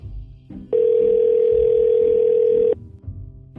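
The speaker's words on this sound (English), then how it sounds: "I called the Russakoffs' landline" A landline telephone tone sounds as a call is placed: a loud, steady, unbroken tone lasting about two seconds, with faint low rustling before and after.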